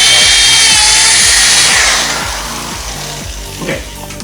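A power drill bores a pilot hole into wood for a closet build, its motor whining loud and steady with a rhythmic low chatter, then easing off and fading in the final seconds.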